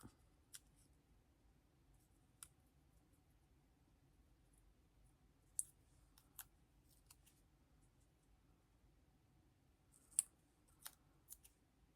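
Scissors cut out paper for a scrapbooking advent calendar, making quiet, sparse snips. The sharp cuts are scattered irregularly across a hushed room, with a small cluster of snips toward the end.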